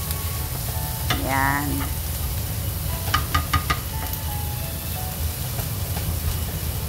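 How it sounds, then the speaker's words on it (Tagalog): Fried rice with salted eggs stirred in a hot pan, a steady sizzle under occasional scraping of the spatula, close and continuous, with a brief spoken word. "Basta haluin lang po natin para hindi po siya masunog."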